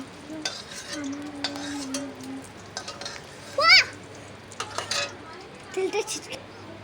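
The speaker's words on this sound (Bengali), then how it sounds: "হলুদ আর নুন দিয়ে আমি আলুটা ভেজে তুলে রাখবো" Potatoes frying in oil in a pan with turmeric and salt, a soft sizzle with scraping and stirring clinks of utensils against the pan, fairly quiet and intermittent.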